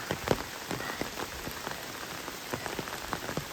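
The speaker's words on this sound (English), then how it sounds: "The sun is out and it's raining on me." Rain pattering steadily on an umbrella under trees along the Vermont Appalachian Trail, with scattered louder drops tapping close by over a constant wash of rainfall.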